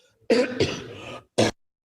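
Two bursts of coughing and throat clearing close to the microphone, a long rough cough followed by a short sharp one, with quiet pauses around them.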